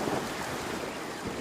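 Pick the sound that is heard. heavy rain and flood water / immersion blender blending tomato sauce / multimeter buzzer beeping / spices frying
heavy rain and flood water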